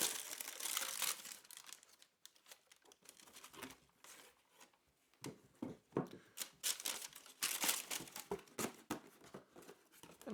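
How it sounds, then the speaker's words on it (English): Packing paper is peeled up inside a Nike Air Force 1 shoe box, producing close, crisp bursts of crinkling and rustling that come and go in irregular handfuls, with no talking. "and peel up the packing paper"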